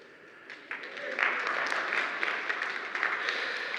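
An audience at a church talk breaks into applause. The clapping is faint at first, swells after about a second and then holds steady, sounding moderately distant.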